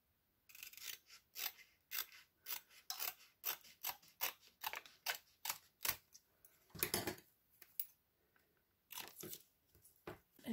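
Scissors snip through double-sided tape in a rapid run of crisp, close cuts with short pauses between bursts, one longer rustling crunch in the middle, no voices.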